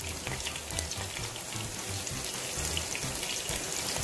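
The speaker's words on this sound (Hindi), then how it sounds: "प्याज जब गोल्डन ब्राउन हो जाएगा हम इसमें चिकन ऐड कर देंगे।" Onions fry in oil until golden brown for dhaba chicken karahi, giving a dense, even sizzle and crackle that runs unbroken throughout.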